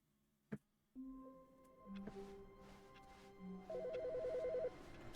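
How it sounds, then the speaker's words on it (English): A telephone rings in the video game The Stanley Parable: Ultra Deluxe, a clear electronic ring starting after a short click and growing in layers, ending in a fast warbling trill, with no talk over it. "It's another phone call."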